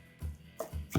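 Knife cutting through French toast with cinnamon sugar on a board, three dull thuds spaced across a second, close and fairly soft.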